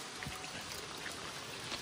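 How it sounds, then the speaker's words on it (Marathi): Rainwater running down a village footpath beside farm fields makes a faint, steady trickling and splashing wash with small droplet patters, and no voices are heard. "बघा वाटेत ना कसं पाणी येतं बघा"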